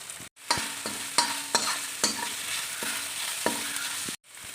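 Beans and chilies stir-fry in a hot pan for Indo-Chinese veg fried rice, making a loud, steady sizzle broken by repeated spatula scrapes and clanks, with brief silences at the start and end.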